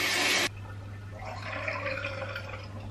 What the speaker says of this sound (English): run it under some warm water